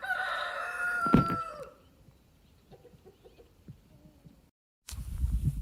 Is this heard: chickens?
yes